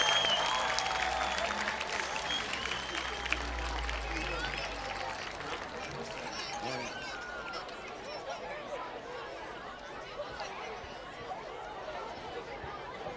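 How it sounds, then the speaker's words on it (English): Crowd applauding in the stands at a high school football game honoring youth football cheerleaders and players, a faint, distant wash of clapping mixed with chatter and murmuring voices. "how about a nice round of applause for our Pop Warner Youth Football cheerleaders and players"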